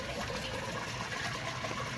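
Water pours out of a water testing unit in a steady, washing gush that lasts the whole moment. It is fairly soft and close, with no voices.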